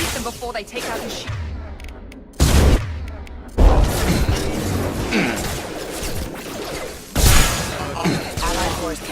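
Gunfire rattles through a firefight in the video game Mass Effect 2, with several heavy bursts and thumping impacts over continuous battle noise while voices talk throughout.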